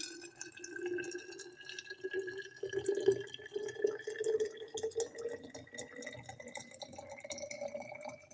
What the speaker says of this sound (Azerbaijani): Qaynar su doldururam.